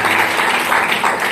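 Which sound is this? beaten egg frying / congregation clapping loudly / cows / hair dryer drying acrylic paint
congregation clapping loudly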